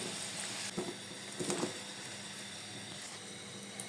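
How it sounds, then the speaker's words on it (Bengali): Potatoes seasoned with salt and turmeric fry in a pan with a faint, steady sizzle, broken by a few soft clinks and stirring sounds. "এখন আমি আলুতে একটু লবণ আর হলুদ দিয়ে মেখে আলুগুলো ভেজে নিচ্ছি।"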